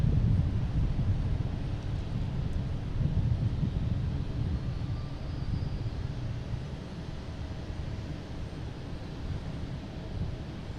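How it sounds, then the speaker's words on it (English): JetBlue Airbus A220 arriving from Bermuda on approach to land at Boston Logan, a steady low jet rumble at moderate distance mixed with wind noise on the microphone, with no voices. "next coming in, we have a JetBlue from Bermuda, A220, flight 204"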